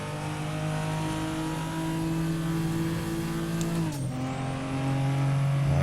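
Toyota Supra race car in Assetto Corsa at Monza, its engine droning steadily at near-constant revs, then a quick downshift around the four-second mark drops the pitch before it settles into a sustained, loud note.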